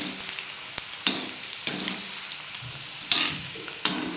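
Potato pieces frying in a pan over a steady background sizzle, with a spatula scraping and clattering against the pan in repeated sharp strokes about every half second to a second.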